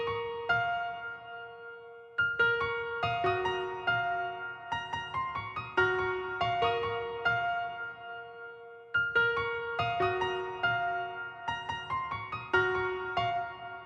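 Bouncy synth keys melody built in FL Studio 20, layered and pitched up an octave, playing a repeating phrase of plucky notes with short decays in a steady rhythm, clear and alone.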